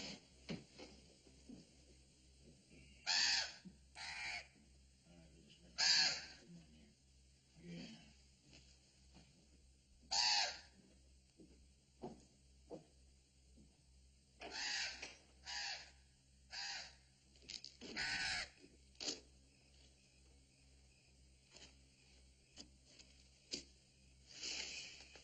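Several crows caw in separate bursts, some paired and some single, spread across a quiet outdoor scene with a low steady hum beneath, in a Western frontier setting.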